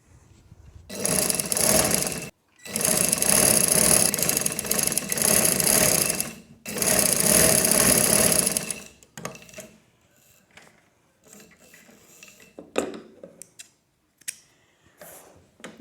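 A sewing machine runs in three loud bursts while stitching lace onto the back of a baby girl's frock, separated by short pauses and followed by quieter handling clicks and fabric rustles.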